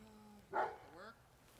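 A dog inside a house gives a single short, sharp bark while people talk nearby during a search of the rooms.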